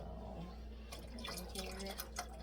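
Chicken broth poured into a cooking pot already holding water and green beans, a soft liquid pouring and splashing that starts partway through and continues at a moderate, close level.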